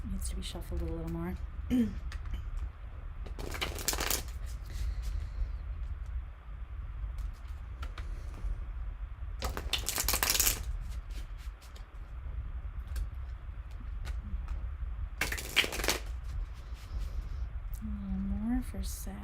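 Tarot cards are shuffled in several brisk, riffling bursts, each a few seconds long, separated by quieter pauses with soft handling sounds.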